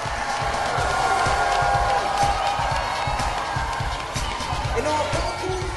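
A party crowd claps and cheers for a friend's music, a dense, steady wash of applause with loud whoops close by, lasting several seconds.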